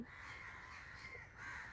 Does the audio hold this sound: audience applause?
no